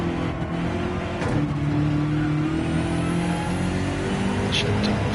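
A 4-liter twin-turbo BMW race car in a racing game drones steadily with a loud, sustained engine tone throughout, pitch wavering slightly as it accelerates, with a brief lift around the middle.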